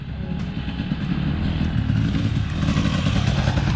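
Loud rumbling engines of two or three motorcycles rev nearby, a gritty roar that swells toward the end with some clattering.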